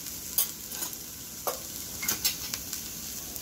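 Spiced moong dal chilla stuffing is mixed in a pan, with a soft sizzle underneath and several short scraping and clinking strokes of the spoon against the metal, close and fairly quiet.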